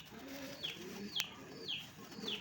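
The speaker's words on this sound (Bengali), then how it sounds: "আর নরের ডাক তো অবশ্যই দেখছেন" A male pigeon with red bars gives several soft, low cooing calls in a steady repeating pattern, close and fairly quiet, with a few sharp chirps from other birds between them.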